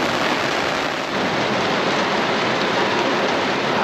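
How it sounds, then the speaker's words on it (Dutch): Dense, steady hiss of heavy rain pouring down without pause at a campervan site, loud and close, with no voices. "Verderop is het heel hard aan het regen"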